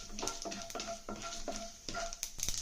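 Tempering seeds frying in oil in a pan for a brinjal cashew curry: faint close crackle and sizzle with several clicking stirs against the pan, no talk.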